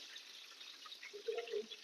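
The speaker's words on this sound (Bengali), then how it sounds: "একটু গরম পানি দাও এখানে" Hot water is poured onto beef cooking in a pot, a soft hissing pour that swells into a brief burbling splash toward the end.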